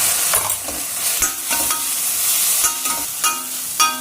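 A spoonful of ginger garlic paste fries in oil in a pan, giving a steady close sizzle with repeated scraping and stirring strokes of a spoon throughout, without speech.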